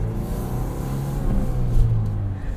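A 2023 Ford Bronco Heritage Edition with a 7-speed manual crawls along in its low-ratio crawler gear, a steady, low engine rumble that swells slightly and then eases, heard alone from inside.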